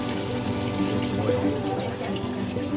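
A hot water tap runs steadily, water splashing continuously into a sink at close range, with no talking.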